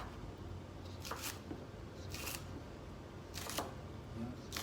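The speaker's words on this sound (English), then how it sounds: "So first, just cut green onion." Green onion chopped on a board for kimchi fried rice, a few quiet bursts of knife cuts spaced apart over a low background hum.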